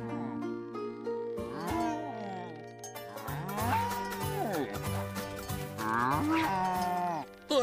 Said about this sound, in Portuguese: Mas quem será que fez esse mu?